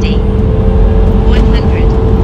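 A Tesla Model 3 Performance in track mode pulls away hard from a standstill, heard from inside as a loud, steady, low road and cabin rumble with a thin hiss above it, unbroken for the whole stretch.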